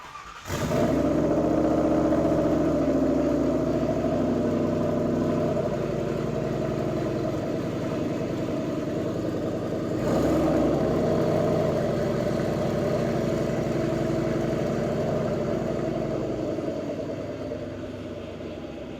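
A turbocharged Ford F250 fitted with a Crown Victoria engine cranks and fires, then settles into a loud, steady idle with a deep rumble, a brief blip partway through, close to the truck.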